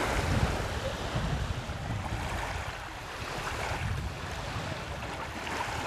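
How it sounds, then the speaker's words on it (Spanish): Sea waves wash steadily onto a Menorca cove beach, a continuous rushing surf that swells and eases, with some wind noise on the microphone and no voices. "Y solo escuchamos el ruido del mar."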